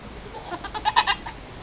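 A baby goat in a barn gives a short, quavering bleat, a rapid series of pulses rising and fading over about a second, close and clear against low background noise.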